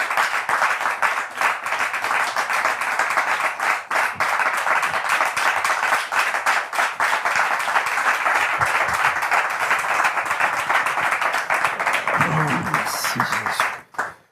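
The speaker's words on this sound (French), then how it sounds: "Nous le recevons tout de suite sous vos applaudissements." A studio audience at a French-language talk show claps to welcome a guest, sustained close applause holding steady for many seconds before tapering off abruptly, with a voice emerging near the end.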